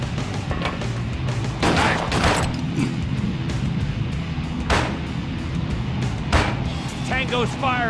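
Enemy gunfire rings out in the video game Perfect Dark Zero as scattered sharp bursts and shots over a rumbling background, mixed with voices.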